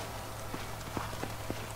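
Horse hooves clip-clop at a steady walking pace in the Red Dead Redemption video game, a handful of soft, evenly spaced thuds over a constant low background hum.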